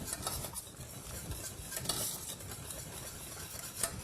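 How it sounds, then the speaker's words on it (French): Lemon curd egg yolks are whisked vigorously in a saucepan over lowered heat, a steady fast scraping and ticking of the whisk against the pan bottom, close and continuous with no talking. "on fouette vigoureusement en permanence"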